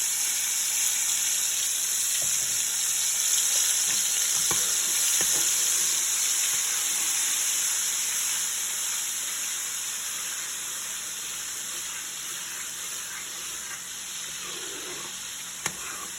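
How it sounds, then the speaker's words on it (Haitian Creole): Continuous sizzling of spices frying in oil in a pot while making Haitian rice, a steady hiss that eases slightly toward the end, with a faint clink near the close. "Un petit épice là bien frit dans la chaudière."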